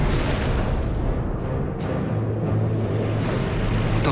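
A torpedo launches from a submarine's seventh tube with a loud, dense underwater rush and a muffled boom, all heavy low rumble and hiss lasting a few seconds.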